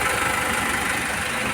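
A Toyota HiAce GL Grandia van's engine idling at a service station, a steady even rumble with constant vibration and no variation in pace.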